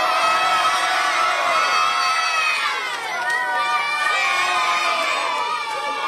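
Girls at a football club cheer and shout together, a loud continuous high-pitched crowd roar with whoops swelling and dipping briefly midway.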